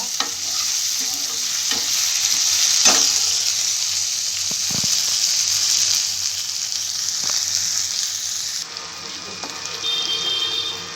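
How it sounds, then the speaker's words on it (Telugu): Tomatoes sizzle and fry in hot oil in a pan for a chicken cornflour fry, a steady bright hiss with a few stirring scrapes, close and continuous without talk. "ఇప్పుడు టమాటా వేసుకుంటానండి టూ మినిట్స్ అట్లా వేసి"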